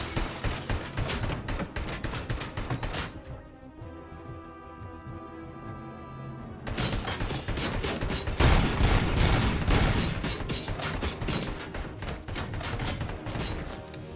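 Dense gunfire bursts in the shooter game RoboCop: Rogue City, loud and continuous with a brief lull of quieter music-like tones in the middle before the shooting resumes heavily.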